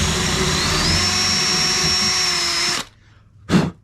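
A power drill runs at high speed boring a hole through a kayak hull, a loud, close whine held for nearly three seconds, then stopping, followed by one short burst of drilling.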